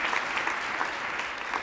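Audience applause for torture victims at a public hearing on reparations, steady dense clapping from a crowd filling the whole moment at even loudness.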